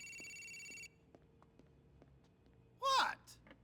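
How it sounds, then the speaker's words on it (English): A phone rings inside GTA IV, a burst of bright electronic warbling tones heard once near the end, after an earlier steady tonal stretch and low background game ambience. "The phone's ringing."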